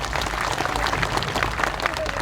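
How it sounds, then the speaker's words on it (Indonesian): Festival crowd in Subang applauding an on-stage performer, a dense, steady wash of many hands clapping with crowd noise and some voices mixed in throughout. "Boleh tepuk tangan lu."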